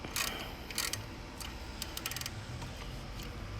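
A hand tool tightening a bolt on a car engine during a valve seal repair gives off quick metallic ratcheting clicks in short bursts, close and moderately loud, with faint clicks continuing over a steady background.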